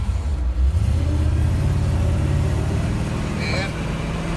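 Car engine revving hard as the car is pushed sideways on a cold day, a loud close rumble rising and holding with tire and road noise, a person talking briefly over it.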